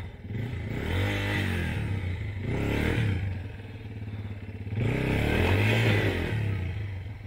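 An off-road motorcycle with a slightly faulty clutch revs hard in two strong bursts between lower idling stretches, its engine note rising and falling up close, with some clatter and scraping in the background.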